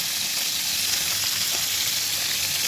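Fish fries in hot oil with a dense, steady crackling sizzle held close and level throughout, with no voices.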